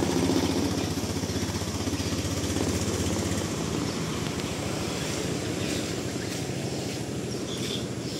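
A used motorcycle's engine idles steadily after being started, a continuous close, even mechanical drone with no talk over it.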